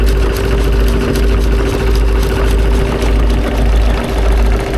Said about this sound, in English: A Dietz engine, D-U-T-Z.